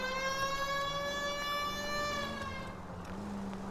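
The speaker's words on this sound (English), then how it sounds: "at least use the siren." A police car siren in the video game LA Noire wails steadily with a clean, synthetic tone and slow pitch wavering, loud and continuous throughout.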